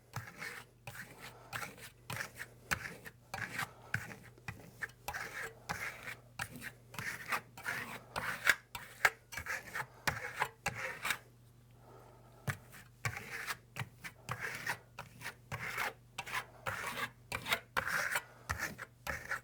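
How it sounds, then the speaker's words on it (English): A trowel spreads wax over smooth, freshly burnished fresco plaster in quick, light passes, giving a steady run of soft scraping strokes with a brief pause midway and a low hum beneath. "This time I'm going to apply the wax directly with my trowel."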